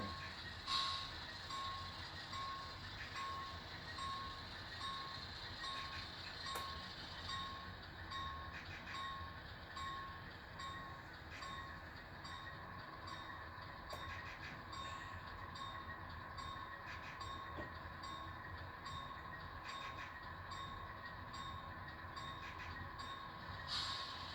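Freight train slowly backing rail cars into a refrigerated industry siding, a steady low rumble and hum with repeated beeping tones, faint and distant, no voices.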